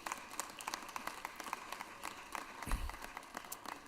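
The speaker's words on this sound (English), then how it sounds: "Please give our students one more round of applause for all of their hard work." An audience applauds students in a legislative chamber, a steady patter of many hands clapping at moderate distance, fairly quiet, with a brief low thump partway through.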